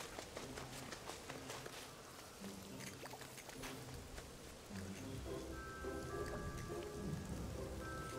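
Rain patters steadily in a video game, Mario + Rabbids Sparks of Hope, a dense wash of drops with scattered sharper taps and a faint tonal line of game sound later on.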